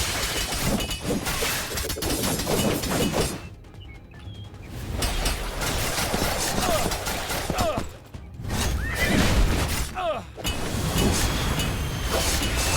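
A horse whinnies loudly over a dense, busy soundscape in the video game Three Kingdoms Zhao Yun, with hoof clip-clops and crashing effects, fairly continuous throughout.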